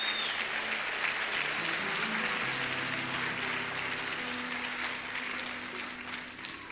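Audience applause fills a church, steady and dense throughout with a faint undertone of voices, easing slightly toward the end.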